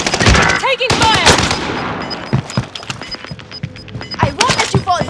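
Automatic gunfire crackles in Call of Duty Warzone on the Caldera map, loud bursts of shots and thuds mixed with game voice callouts and a high electronic tone in the background.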